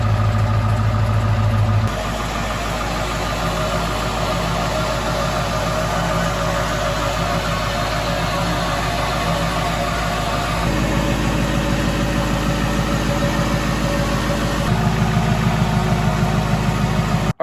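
A pickup truck engine with 291,000 miles idles in cold weather, a loud, close, steady rumble that holds constant throughout with only slight shifts in tone.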